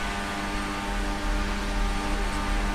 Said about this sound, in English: I'm revving out in the draft.